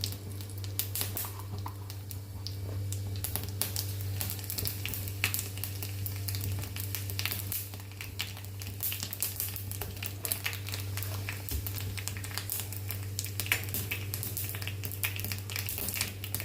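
Cumin seeds sizzle and spit in hot oil for a dal tadka, a steady close-up frying crackle with small pops running throughout, no talking over it.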